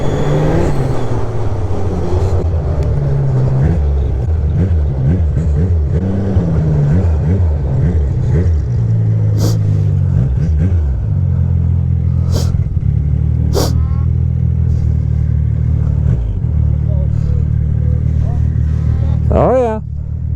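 Two hot rods, one a Sidewinder, rev and drive with loud, close engine drone and rising and falling throttle sweeps, under occasional excited talk.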